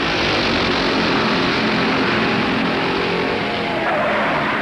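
A field of 1964 stock cars roars off the start of the Darlington Southern 500, a loud, dense wash of engine noise that holds steady throughout with no voices.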